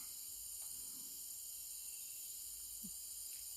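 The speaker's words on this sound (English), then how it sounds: "I'm at the frog pond." Frog pond ambience at Kubah Nature Park: a faint, steady chorus of high-pitched chirring rings continuously, with a couple of soft low croaks or splashes briefly rising from the quiet background.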